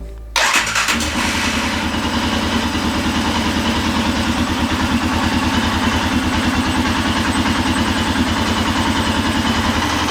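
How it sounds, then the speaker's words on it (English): An engine starts and settles into a steady, even idle after its fuel injector was repaired, running continuously and close with a regular low pulsing throb. "it seems to be idling okay"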